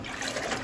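Water drains from the brass drain valve of a domestic water heater that has cold and hot shut-off valves, a steady, fairly loud rushing hiss running without pause for the whole moment.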